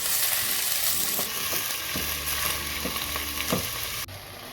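Big sliced onions fry in a pan as the base for a Palestinian maftool stew, a steady close sizzle with soft stirring scrapes and occasional low knocks, no voices.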